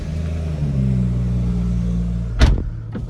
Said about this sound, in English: Nice sound from that straight six engine.